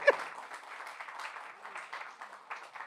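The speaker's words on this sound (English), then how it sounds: "Let's continue to clap and welcome our award-winning Fada Martin." Dense, steady applause from a gala audience welcoming an award-winning performer, many hands clapping close together at an even level with a slightly sharper burst at the very start.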